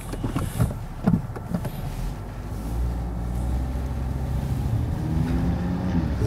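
An Audi RS3 with a flap-controlled exhaust rumbles low and steady while driving in comfort mode, the engine note building gently after a few cabin clicks at the start.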